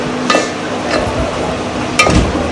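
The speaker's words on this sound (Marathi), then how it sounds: "कांद्याची ग्रेव्ही चांगली भाजून घ्यायची बारीक गॅसवर कांद्याची ग्रेव्ही भाजून घ्यायची आणि हा असा हलवत राहायचा" Onion gravy fries on low gas in a pan while being stirred, giving a soft steady sizzle with a few brief scraping stirs and light utensil knocks, close and alone without talk.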